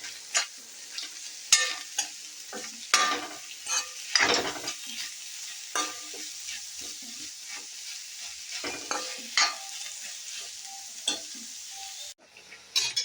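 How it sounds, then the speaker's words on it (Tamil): Egg noodles are stir-fried in a pan, with a soft background sizzle broken by repeated irregular scraping and tossing strokes of a utensil, close and fairly loud, with brief pauses between bursts and no talking. "இப்போ நல்லா வதக்கி விட்டுக்கலாம்"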